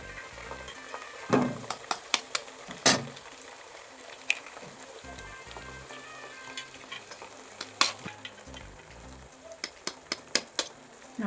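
Four eggs cracked straight into frying onions for an onion egg kurma, a soft steady sizzle broken by repeated sharp scrapes and clinks of a spoon stirring against the pan, with no talking.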